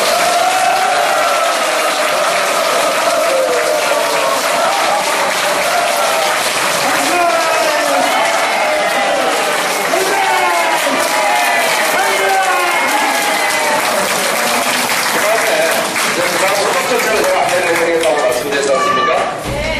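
Sustained loud applause from a large audience at a redevelopment-district union members' general meeting held to dismiss officers, dense clapping throughout with scattered voices and calls mixed in.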